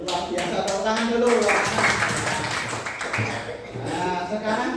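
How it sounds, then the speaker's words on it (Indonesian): A classroom of students claps their hands together in a busy, sustained round of applause, mixed with chatter and voices throughout. "Oke, luar biasa, tepuk tangan dulu"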